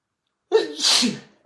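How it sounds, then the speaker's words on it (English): A woman gives one sharp, close sneeze, a quick intake followed by a breathy burst, with silence around it. "I gotta sneeze again."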